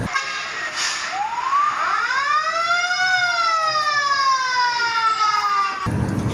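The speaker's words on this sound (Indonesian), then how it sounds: "ternyata ini ada mobil damkar" A toy fire truck blares a loud electronic siren, its wailing tone sweeping up and down repeatedly before cutting off abruptly near the end.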